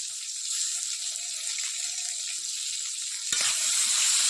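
Mustard and poppy seed paste with radhuni frying in a pan for shukto, a steady close hiss and sizzle that grows louder and brighter near the end as the paste is stirred, with no talk.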